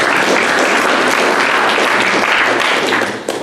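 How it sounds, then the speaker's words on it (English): Audience at a health care educational forum in a library applauds, a steady loud wash of many hands clapping that continues throughout and eases slightly at the very end. "I will pause for applause."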